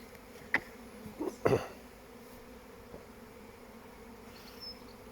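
A dense, steady hum of many honeybees buzzing close by at an open hive, with a few soft knocks and taps mixed in.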